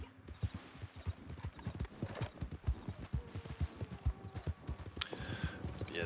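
Horse hooves clip-clop steadily in Red Dead Online, a rapid even rhythm of close, distinct hoofbeats with a faint whinny near the end and the game's ambient sound underneath.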